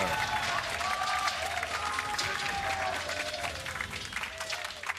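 A large esports arena crowd at the 2019 League of Legends World Championship claps and cheers in sustained applause, with a voice speaking over the roar.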